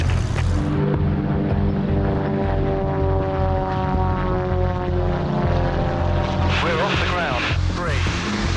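A jet aircraft lining up for departure gives a loud, steady engine drone with sustained tonal whine throughout, rising into a brief swelling roar near the end.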